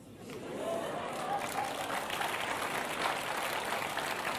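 A church congregation applauds a preacher mid-sermon, with clapping swelling in after a quiet start and holding as a dense, steady patter, somewhat distant, with faint voices mixed underneath.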